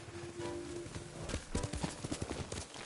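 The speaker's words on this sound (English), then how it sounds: "Horse!" Horse hooves clip-clopping in the video game Ghost of Tsushima, a quick run of hoof beats in the second half after a tonal hum, fairly quiet overall.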